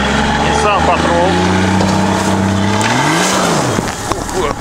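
A Nissan Patrol off-road vehicle drives at a jeep club gathering, its engine droning steadily and rising and falling in pitch, loud and close, while people talk over it.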